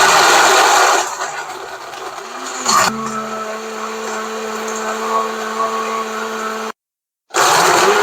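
Countertop blender blending a single-glass milkshake with 8 to 10 ice cubes, the lid locked on: a loud motor whir that settles into a steady hum, then cuts off abruptly and starts up again.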